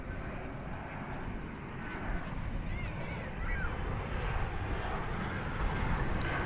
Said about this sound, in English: Pull out real quick for arrival of American Airlines Flight 1208 from beautiful downtown Burbank, California